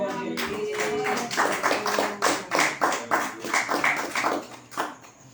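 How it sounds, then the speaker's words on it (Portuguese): A church congregation claps for Jesus in a steady rhythmic beat, loud and close, with sung or spoken voices faintly mixed in at the start. "palmas para Jesus"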